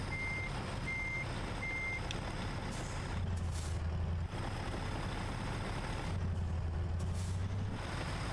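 Steady electronic reversing beeps from a truck in American Truck Simulator, repeating at an even pace over a low idling diesel engine, with occasional hisses of air brakes.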